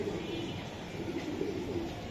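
Racing homer pigeons cooing softly in a loft, a low continuous murmur of coos against steady ambient noise, no voices.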